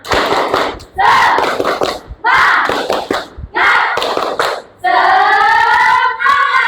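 A class of children claps loudly in a quick rhythmic pattern, bursts of hand claps separated by short gaps, with voices chanting or calling out between them.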